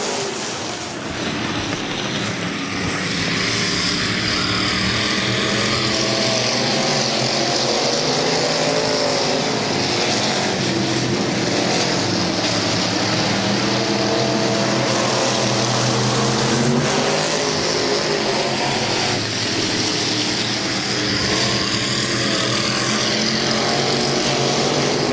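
Modified race cars circle a track in a continuous, loud engine roar that never lets up, several cars overlapping into a dense wash with passing swells, heard without clear speech.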